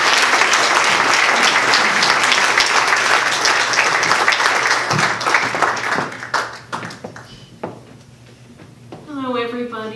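An audience at an award presentation applauds as performers are welcomed to the stage, dense loud clapping that thins into scattered claps and fades, before a voice begins speaking at the end.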